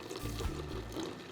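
Water added to a parchment loss-filling mixture of hide powder, poured into a container in a soft, brief, low-level trickle heard alone.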